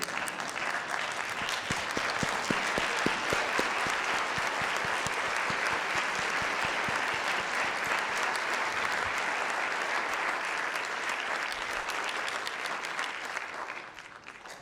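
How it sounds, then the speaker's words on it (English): A large audience at a district award ceremony applauds steadily for about fourteen seconds, dense continuous clapping at moderate distance that tapers off at the end. "Please give them a round of applause again."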